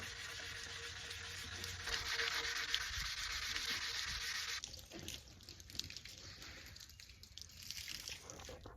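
A 200 grit pad polishes a concrete bench top with a continuous close, quiet rubbing and swishing hiss that shifts in tone midway, with a faint watery edge.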